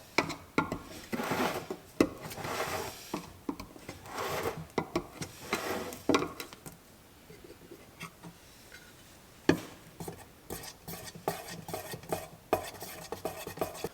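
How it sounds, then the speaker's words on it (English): Varathane wood finish being stirred in its can: scraping, rubbing strokes of a stir stick against the metal can, repeating rhythmically and close by, pausing briefly midway before continuing. "go ahead and open up your Varathane and stir it very, very well"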